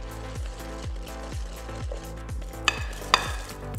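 Pastry dough for pâte sucrée being worked with sugar by hand, giving a steady series of soft rhythmic pushes and scrapes about twice a second, close and fairly quiet, with two brighter clinks near the end.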